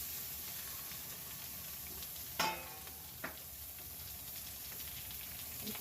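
Chicken frying in masala in a pan, a soft continuous sizzle and hiss with two brief scraping knocks of a ladle stirring.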